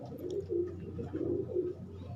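Female pigeon cooing close by, soft throaty coos repeating in a steady rolling rhythm over a low background hum, with no talking.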